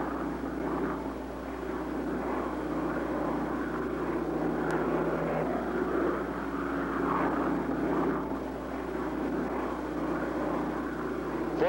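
A Delta airliner on landing approach with flaps and landing gear extended gives off a steady, unbroken engine roar that stays fairly loud and even throughout.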